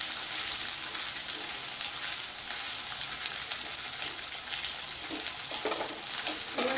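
Cabbage frying in a pan gives a steady, loud crackling sizzle throughout, with a few stirring scrapes near the end.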